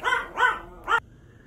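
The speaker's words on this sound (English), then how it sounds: "And of course the dog's gonna bark." A dog barks three times nearby, two quick barks then a third after a short gap, followed by quiet.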